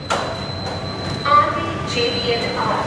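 A Mumbai metro train carries passengers, with a steady rumble of the carriage and brief tones that may come from the doors. Voices talk over the ride.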